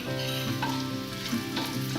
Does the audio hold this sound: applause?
no